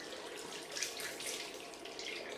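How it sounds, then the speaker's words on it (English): Cold water rinse running over a shaved head: a faint, soft continuous trickle and splash, close and steady for a brief moment. "we need to do the cold rinse on my head"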